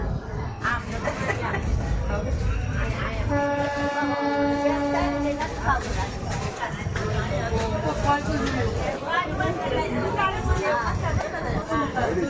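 A passenger train on the Rajkot–Porbandar line runs past at Jetalsar junction with a continuous rumbling clatter and a sustained horn blast midway, while people chat over it nearby.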